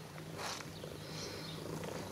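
A cat purrs softly and steadily up close, a low continuous rumble with faint breathy pulses.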